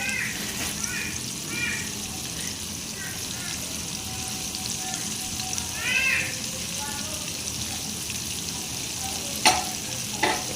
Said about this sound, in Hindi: ये देखिए माशाल्लाह ज़बरदस्त फ्राई होने वाले हैं